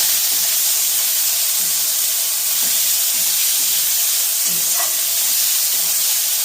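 Chopped tomato and green chilli go into a vegetarian vegetable dal cooking on the stove, a steady steamy hiss and sizzle running throughout with a few soft plops and knocks of the pieces landing.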